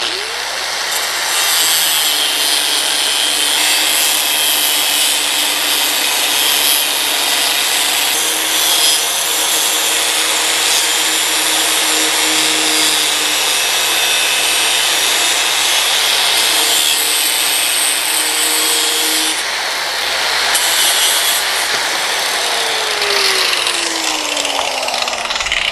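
A hand saw blade cuts through a metal rod for a workshop tool rest with steady, continuous, loud rasping strokes that stay close and run on unbroken for the whole stretch.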